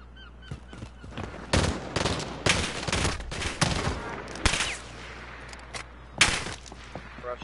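Gunfire from the video game A Way Out: bursts of sharp shots in irregular clusters, some rapid and overlapping, mid-distance and fairly loud, with quiet gaps between volleys.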